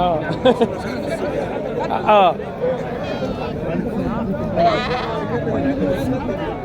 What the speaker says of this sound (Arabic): احسن غنم في السوق